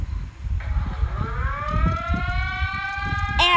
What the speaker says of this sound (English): I don't want to go to Brazil if this is their alarm.